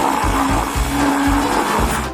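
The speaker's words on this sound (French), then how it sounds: "Une boule de glace dans le mixeur et la moutarde ne sera pas superflue." Kitchen blender motor whirring as it mixes a scoop of ice cream with mustard, running loud and close with a steady drone that pulses in rhythmic surges about every half second.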